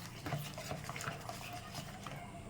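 Jalebi batter made from flour is whisked by hand in a bowl. The quiet, rapid and steady scraping continues throughout, close to the microphone and with no speech.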